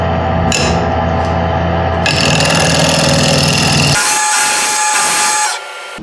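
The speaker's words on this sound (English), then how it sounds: "I'm just going to use my bowl scraper just to smooth out the edges here." A bowl scraper smooths the edges of a woodturned box spinning on a lathe, giving a steady, loud scraping drone over the motor hum that shifts in tone partway through and then fades near the end.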